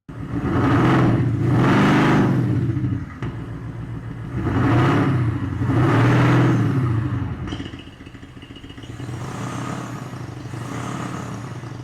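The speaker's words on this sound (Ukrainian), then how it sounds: "насолоджуватись звуком цього активного вихлопа вже на новому автомобілі" A Mercedes-Benz S-class W221 fitted with a Maxhaust electronic active exhaust revs in two strong swelling bursts, a deep throaty roar heard up close, then settles back to a lower, steady idling rumble.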